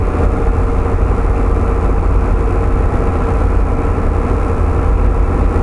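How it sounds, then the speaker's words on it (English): A 2020 Volvo VNL 860 truck descends a mountain grade with its engine brake on setting 3, giving a steady, loud, low diesel rumble that holds constant throughout. "Got the engine brake on 3."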